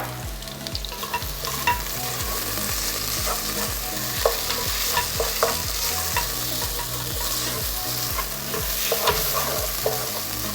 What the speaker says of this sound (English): So you're kind of essentially frying the paste a bit.